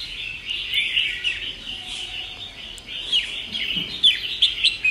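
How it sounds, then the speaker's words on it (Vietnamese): A wild-caught songbird from the Lạng Sơn limestone mountains sings bright, ringing chirps and trills in several close bursts, growing livelier toward the end. "anh em nghe giọng phê chưa? Giọng chuông xoắn tít luôn."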